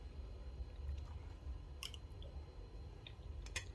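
Close, quiet chewing of vegetable fried rice with broccoli, soft crunchy bites and wet mouth sounds in an otherwise still room.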